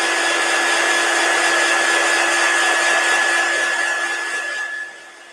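A hair dryer or heat tool blowing steadily at close range to dry ink on a sleeve cozy, a loud even whine with a constant hum that drops off abruptly near the end.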